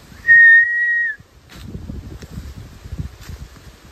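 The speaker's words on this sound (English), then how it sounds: "heard a whistle." A single sustained whistle blown outdoors at night in a state park, loud and steady for about a second, followed by gusting wind and rustling against the microphone.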